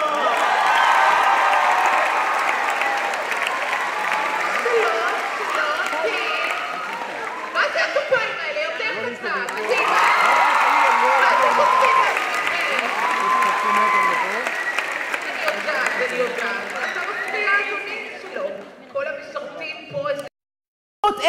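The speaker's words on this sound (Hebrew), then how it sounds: "מחיאות כפיים" An audience at a talent show semi-final applauds loudly and steadily, sustained clapping with some cheering that carries on for most of the stretch before briefly dropping out near the end.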